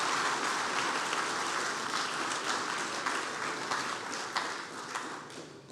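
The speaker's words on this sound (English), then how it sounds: "Please give him another round of applause." A hall audience applauds at a university induction ceremony, a full steady round of many hands clapping close by, tapering slightly toward the end.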